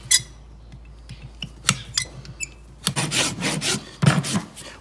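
A horse hoof heel fitted with a glue-on plastic clog is trimmed with a rasp and knife, giving a series of short scraping and rasping strokes, close and irregular, with no talking.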